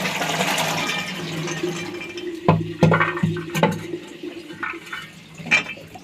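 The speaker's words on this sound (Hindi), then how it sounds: "अब मैं ये सोडे वाला पानी निकाल दूँगी और फिर मैं दूसरा पानी इसका लूँगी" Soda water drains off soaked chickpeas with a splashing pour that gives way to several hard clanks and knocks of a pot or container, then trickling and a few softer bumps.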